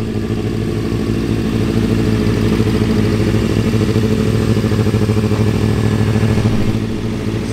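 Motorcycle engine running steadily at idle with a low, even clatter, close and loud throughout with no talking.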